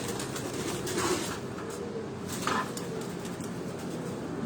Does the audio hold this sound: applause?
no